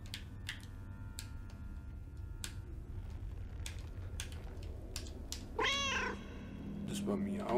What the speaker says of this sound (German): Das war Miauen.